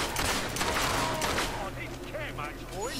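Dense, crackling gunfire fills a Fable 2 battle at a castle under bandit attack, a steady barrage with quieter in-game sounds trailing after.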